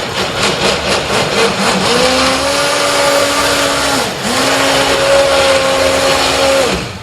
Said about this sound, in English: Now we're going to go ahead and blitz this with our immersion blender.